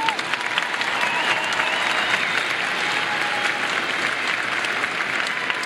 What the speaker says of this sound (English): Graduates, please join me in a round of applause for your family and your friends.